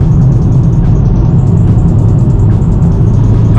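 A VW Mk7.5 Golf GTI and Golf R driving down a road on a hot afternoon, with a loud, steady roar of engine and road noise that never lets up.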